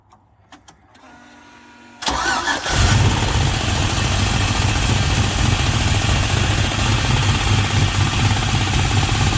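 A car engine cranks and starts after a couple of seconds, then runs loud and steady close by, idling with a rough, uneven note that suggests a misfire.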